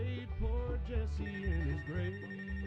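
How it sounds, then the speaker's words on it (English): A telephone rings on a counter inside a video game, a repeating electronic ringtone pattern holding steady and fairly loud over a busy musical game background. "Oh, that's a phone."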